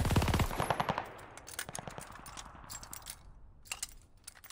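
A turret-style machine gun fires in a World War-era shooter game such as Call of Duty or Battlefield: a loud, rapid burst of shots at the start, then scattered lighter clicks and mechanical rattles with no talking.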